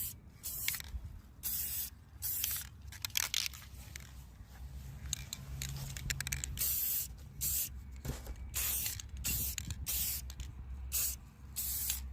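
Aerosol can of metallic silver spray paint being sprayed onto a craft piece in repeated hissing bursts, close and fairly loud, with short pauses and a faint background hum between sprays.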